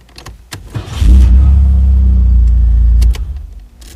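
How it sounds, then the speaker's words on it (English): A starter motor cranks briefly, then a 1990 Chevrolet Camaro engine catches and idles with a low rumble for a couple of seconds before cutting off, with a few clicks around it. "the fuel pump and starter motor are activated to start the car"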